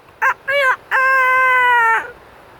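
A human voice imitates a rooster crowing, with two short clipped calls followed by a long drawn-out cock-a-doodle-doo, loud and close, in an otherwise quiet setting.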